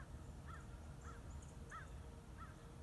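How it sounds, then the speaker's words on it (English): A group of crows caws overhead at a cemetery in Pinconning Township, with four or five separate harsh calls spaced about half a second apart, fairly distant over a low background rumble. "the murder of crows up there"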